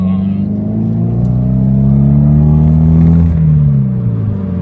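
A loud car engine drones up close as the vehicle drives, its pitch climbing steadily before easing off, with a faint voice partly under the roar.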